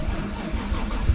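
A forged, built Nissan RB25DET engine cranks and catches in a short, close burst of low mechanical churning that builds slightly toward the end.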